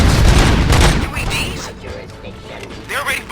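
Gunfire in RoboCop: Rogue City, a burst of loud, close shots crowding the first second, then quieter scattered combat noise with clanks and a short rising tone near the end.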